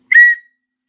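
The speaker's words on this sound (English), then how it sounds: "We've got our BCB backup whistle." A single short, shrill blast from a BCB backup survival whistle, loud and close, lasting about a quarter second with a quick fade.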